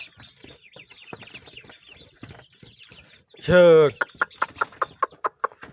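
About thirty Sonali chickens cluck and chatter close by, with one loud squawk midway followed by a quick run of sharp, rhythmic clucks.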